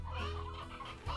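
A stony hen, a game chicken from Slime Rancher, gives a short burst of clucking, close and brief.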